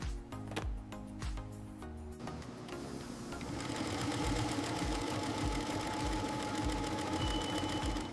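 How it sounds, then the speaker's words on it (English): An automated laser-guided sewing machine stitching leather jacket panels, a fast steady mechanical chatter close up after a few irregular clunks at the start, running evenly to the end. "Automated laser-guided structural sewing."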